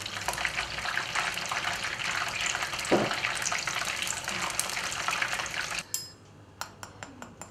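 Beer-battered cod fries in hot oil with a steady, loud, hissing sizzle. Near the end the sizzle stops abruptly, and a few sharp clicks and taps follow.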